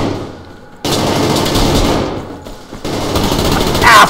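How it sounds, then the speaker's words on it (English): Dense, continuous gunfire in the game Survarium, with rapid bursts and booming shots, loud and close, cutting out briefly before resuming in a steady barrage. "There's gunfire everywhere, you know, on the outside as well too."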